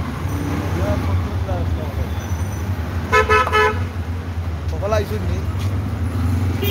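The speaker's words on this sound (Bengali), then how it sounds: "রেলওয়ে স্টেশনের সম্মুখে আছি আমরা রাস্তায়।" Busy street traffic outside the railway station in Chittagong rumbles steadily while car horns toot in short bursts, with voices chattering nearby.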